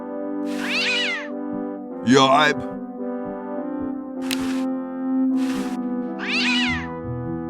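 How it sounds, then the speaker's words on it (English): A cartoon cat meows repeatedly in the point-and-click adventure game Day of the Tentacle. About four drawn-out, loud meows rise over a steady electronic hum, with a brief spoken exclamation in between. "What a pretty pussycat."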